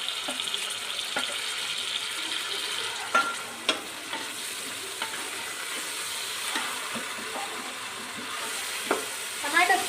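Chopped tomatoes stirred into softened onions frying in a pan for vegetable pulav, with a steady sizzle and occasional scraping and clinking of the spoon.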